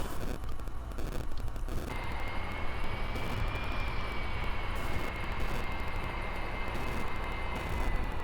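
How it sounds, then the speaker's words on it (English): Jet engine roar from a plane setting down on an aircraft carrier with an arrestor wire in Kerbal Space Program, a steady loud broadband rush with a rising whine partway through and no voices. "We have finally landed and used the arrestor wire"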